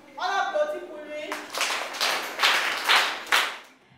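An audience at a gathering claps in a short burst of scattered, fairly close handclaps following a spoken voice, fading out after a few seconds.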